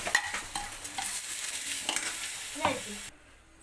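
Ground spice paste frying in a hot pan after onions and curry leaves, dense close sizzling with repeated scraping stirs and a few utensil knocks, then dropping away near the end.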